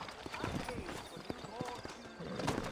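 Horses trot with rhythmic clip-clop hoofbeats in the Red Dead Redemption video game, set around New Orleans, the steady hooves running under a voice talking throughout.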